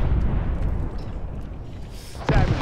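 In an Arma 3 ALiVE scenario, a rocket strikes a tank with a sudden heavy blast near the end, following a steady low rumble of battlefield noise.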